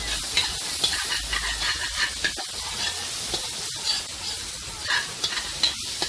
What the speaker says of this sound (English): you have to move the spoon in motion, scrape the bottom of the pot, shove all the curry, gather it up, mix it up.